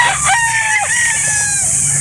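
A rooster crows loudly and close at a live chicken market, one drawn-out call over a steady background din.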